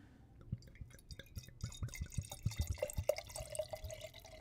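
A second pour of Hampton Water wine into a glass: uneven drips and small splashes that build into a denser, faster patter, heard up close with no voices.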